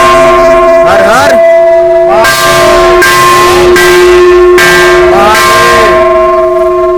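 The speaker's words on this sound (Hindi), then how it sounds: "125 किलो का ये घंटा है।" A large 125 kg temple bell at the Kalpeshwar Mahadev shrine in Uttarakhand rings loud and close, struck three times with long sustained metallic overtones that overlap one another, alongside faint chanting voices.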